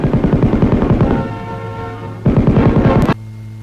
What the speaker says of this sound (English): Its cyclic rate of fire of approximately 550 rounds per minute, combined with its versatility, provides a potent automatic weapon